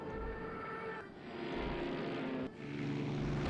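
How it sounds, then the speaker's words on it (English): Engine drone of many dive bombers flying in with heavy loads in the naval strategy game Rule The Waves 2, a steady low rumble with brief dips in volume, fairly quiet and alone. "There goes a whole bunch of dive bombers with heavy loads going in."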